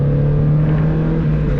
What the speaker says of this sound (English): There you go, heel toe shifting around the corners.